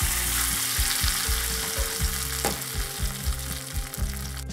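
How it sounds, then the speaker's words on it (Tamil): Sizzling tempering with curry leaves is poured into peanut chutney, a steady close frying hiss with soft stirring scrapes and a hum, and a single sharp splash partway through, with no voices. "இப்போ இந்த தாளிப்பை வந்துட்டு இந்த சட்னியில் ஆட் பண்ணிடலாம்."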